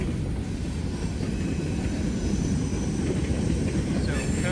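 A freight train led by an SD70ACe locomotive rolls past in the countryside as a steady, dense rumble of engine and wheels, moderately distant and continuous throughout.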